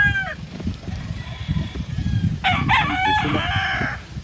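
A rooster crows once on a big farm in the Philippines: a loud, clear, drawn-out call in the second half, over a steady murmur of low background noise.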